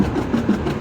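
A Ferrari engine running at a 4th of July parade, a low, throbbing rumble that is close and fairly loud, with slight pulsing swells and no talk.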